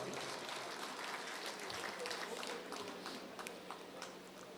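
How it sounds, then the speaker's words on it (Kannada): An audience gives a brief, fairly faint round of applause to welcome Ramanath Rai at a Congress party gathering, a dense patter of clapping that thins out over a few seconds. "ಚಪ್ಪಾಳೆಯ ಮುಖಾಂತರ ರಮಾನಾಥ್ ರೈ ಅವರನ್ನ ಸ್ವಾಗತಿಸ್ತಿ."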